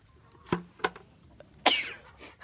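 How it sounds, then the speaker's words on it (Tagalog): Someone with a cold sneezes in a quiet rural hut, with a couple of short sharp bursts followed by one louder, fuller sneeze, all close and with no talking. "Kapag talaga may sipon, ganun talaga atsihin talaga guys."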